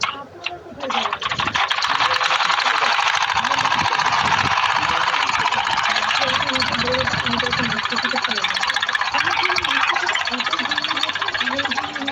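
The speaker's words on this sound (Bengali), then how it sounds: "প্রথমে এক পাশ দিয়ে আগে একটা সেলাই দেব।" A sewing machine runs a seam down one side of a cloth, giving a loud, steady, close-up mechanical whir. It starts up after a brief moment and keeps going for about ten seconds.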